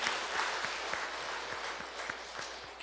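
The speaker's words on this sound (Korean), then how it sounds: "다시 한번 박수로 감사하겠습니다." A church congregation applauds during a Korean Sunday worship service, broad sustained clapping from many people in a reverberant sanctuary, with a faint low rhythmic thump recurring beneath the steady applause.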